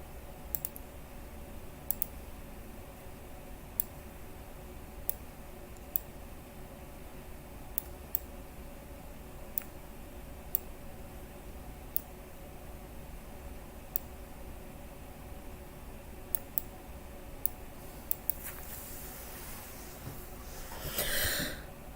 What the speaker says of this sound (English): I don't want to bore you to death with just clicking